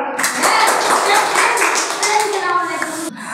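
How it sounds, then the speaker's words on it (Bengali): A crowd of children and adults clapping at a school quiz competition, a dense burst of applause with some voices mixed in, ending abruptly. "এই প্রশ্নের জন্য হাততালি হবে না?"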